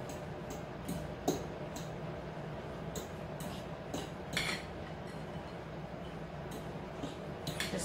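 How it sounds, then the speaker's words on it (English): Ingredients with a pinch of pink Himalayan salt being mixed together in a bowl, giving steady scraping and stirring with intermittent light clinks of utensil against the bowl, fairly close and moderately quiet, with no talking. "you're just gonna mix that all together"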